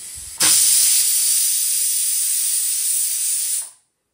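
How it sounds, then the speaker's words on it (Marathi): A kitchen pressure cooker cooking a pulse curry lets out a sudden loud hiss of escaping steam that holds steady for about three seconds before cutting off into silence. "कुकरला पण शिटी आली बघा."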